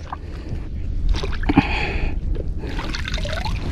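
Salty seawater laps and trickles at the shoreline, a soft, close splashing and dribbling that rises briefly and then settles into a steady wash.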